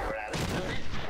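Sniper gunfire in the video game Batman: Arkham Asylum, a loud, dense burst of game gunfire and booming that fills the short moment, with no pause.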